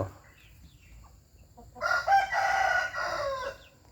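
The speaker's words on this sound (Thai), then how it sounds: "ตอเช้าก็ขันแอ๊กแอ๊กแอ๊กอยู่แถวชายป่านู่น" A wild red junglefowl rooster crows once at the forest edge, a single clear call lasting under two seconds after a quiet start, heard at moderate distance with no talking.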